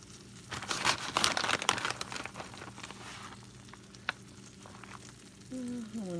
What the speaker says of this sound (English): you want to kind of make a tortilla out of cheese in the pan